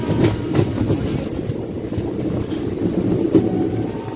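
A train hauled by an electric locomotive rumbles steadily along the rails on an electrified line toward Ernakulam Town, heard from inside with a continuous low roar and faint rhythmic clicks.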